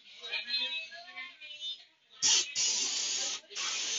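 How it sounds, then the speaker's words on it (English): An aerosol spray can sprays down a vinyl toy in bursts, first with soft sputtering hisses, then loud, steady close-up hissing blasts with brief pauses between them. "So I'm gonna spray this down with this stuff."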